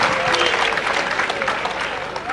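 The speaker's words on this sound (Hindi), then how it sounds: "अच्छा लगे तो तालियों से बताते हैं" A large audience applauds at a Hindi poetry gathering (kavi sammelan), a thick, continuous wash of clapping with a voice mixed in underneath.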